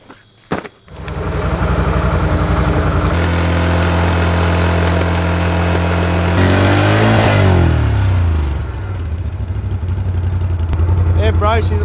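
A motorbike engine is started up and runs at a steady, loud idle close by, with the pitch rising and falling briefly partway through before settling again.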